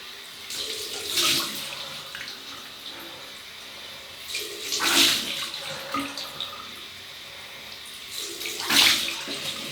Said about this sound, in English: We've just used alum, and we'll rinse that off now with cold water.